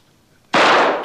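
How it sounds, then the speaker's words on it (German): A single loud, sudden gunshot fired at an empty suitcase in a 1996 German crime drama, bursting after a quiet moment and decaying briefly. "Ich habe auf einen leeren Koffer geschossen."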